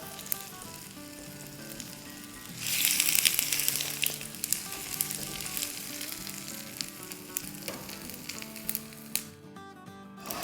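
A stuffed egg fries in a hot pan, giving a steady crackling sizzle that swells louder partway through, with soft background music underneath.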